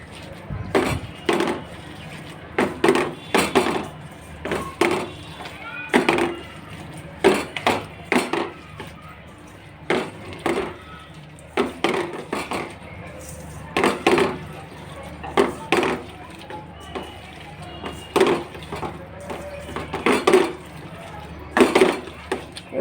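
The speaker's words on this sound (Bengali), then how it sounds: "আমি এখন এগুলো মেখে নিচ্ছি।" Vegetables mixed with spices by hand in a metal pot for a taro curry, giving irregular clanks and knocks against the pot with softer squelching between, close and fairly loud.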